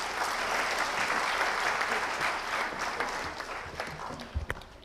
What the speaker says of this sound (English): Once again, a great round of applause, please.